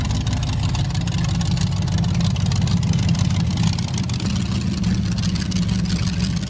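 The engine of the world's tallest rideable motorbike, about five meters tall, runs with a steady, loud, rumbling drone that stays even throughout with no pauses.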